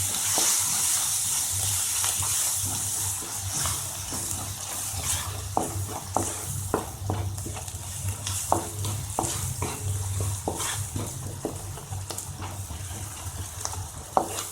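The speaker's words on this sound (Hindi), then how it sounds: "प्याज को हमें बहुत ज़्यादा नहीं भूनना है, हम इसे 1 मिनट तक ही भूनेंगे" Onions frying and being stirred in a pan for an evening semolina snack, with a steady sizzle under repeated scraping strokes of a spoon, close and continuous.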